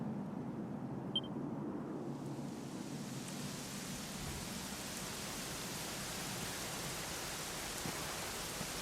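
Steady, dense rainfall in a video game hisses evenly throughout, a constant wash of noise with a low rumble beneath it.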